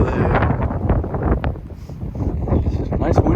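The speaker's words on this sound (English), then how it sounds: "It's nice windy. I mean, it's a warm, windy day." Wind blows and buffets the microphone on a warm, windy day at a camp surrounded by trees, a continuous loud rumbling gust under steady ambient noise.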